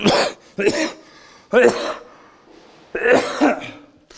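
A man recovering from an infection coughs in four harsh, close bursts, each a cluster of rough throaty hacks separated by short pauses, with no speech between them.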